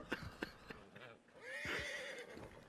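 Horse neighing in Red Dead Redemption 2 Online, a loud whinny following a few hoof clip-clops, with a voice talking nearby.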